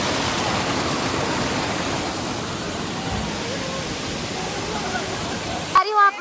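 Chingra Pagar waterfall, a hidden fall in Gariyabandh, Chhattisgarh, pours clear water with a loud, steady rushing roar close by, broken only at the very end by a brief spoken voice.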